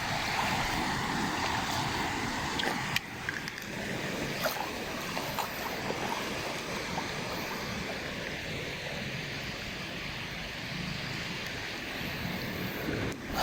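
Sea waves washing around a boat out on open water, a continuous broadband wash of water and wind noise, fairly faint and steady with a slight dip early on, no talking.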